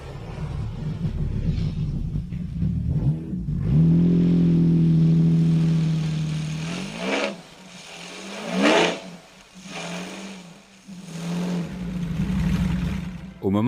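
A motorcycle powered by a Lamborghini V12 engine idles with a deep rumble, then revs up in a rising whine, followed by several sharp, loud bursts of throttle close by.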